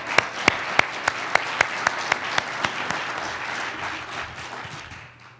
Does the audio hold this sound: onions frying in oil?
no